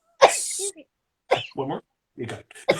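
A person sneezes, attributed to allergies: one sharp, loud burst near the start, followed by people talking nearby.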